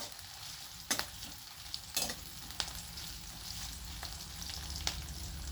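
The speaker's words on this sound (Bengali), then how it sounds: "পেঁয়াজটা একটু লাল লাল করে ভেজে নিতে হবে" Onions frying in white oil sizzle steadily in a pan, with a few sharp scrapes and clatters of stirring standing out over the continuous hiss, close and alone.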